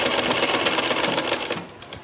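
A sewing machine runs steadily, stitching a cotton newborn baby dress (jhabla) in a continuous whirring burst that slows and stops near the end, with no talking over it.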